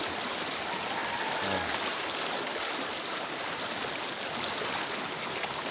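A flooded river overflowing its banks in Barangay Bubon, Nueva Ecija, gives a steady, loud, unbroken rush of churning water that fills the whole stretch without letting up.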